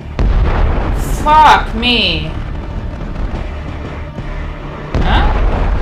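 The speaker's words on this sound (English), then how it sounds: "You're firing on us again!" Weapons fire and explosions from a space battle in The Expanse episode "Gaugamela" crack and boom in several loud bursts, with warbling sci-fi effects, while voices talk and a viewer swears over the action.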